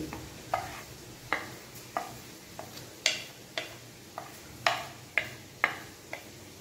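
A spoon stirs mutton curry seasoned with cumin powder in a pot, giving regular scraping clicks roughly every half second, close and fairly loud over a faint background hiss.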